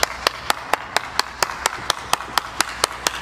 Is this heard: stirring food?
no